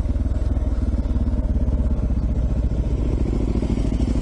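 A motorcycle rides downhill over loose rock, its engine thrumming in a steady, rapid pulse with clattering and knocking from the tyres over stones, loud and close throughout.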